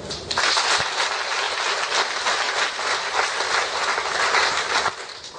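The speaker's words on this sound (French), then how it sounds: "Il faut encore les applaudir." Sustained applause from a crowd for the couple at a wedding ceremony, dense, steady clapping that holds for several seconds without a break.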